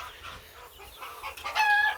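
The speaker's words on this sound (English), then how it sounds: "These are all purebred chickens, just different breeds." Several purebred chickens of different breeds, including a Turken hen, let out in a yard, giving soft scattered clucks and murmurs that swell into louder, sharper calls toward the end, with no talking.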